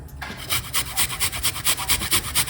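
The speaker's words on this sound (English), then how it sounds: "we're going to grate a nice piece of a ginger" A piece of ginger grated close up, with about ten quick, evenly spaced rasping strokes in a steady rhythm, and no talking.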